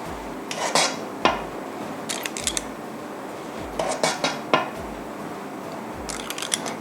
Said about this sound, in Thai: เราจะตัก เนื้อเค้กของเราใส่ลงมาเลย